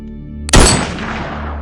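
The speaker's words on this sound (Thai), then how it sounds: "เสียงปืนแผดสนั่นป่า" A single loud M1 Garand rifle shot of a .30-06 round cracks sharply in a forest, followed by a rolling echo that fades over about a second.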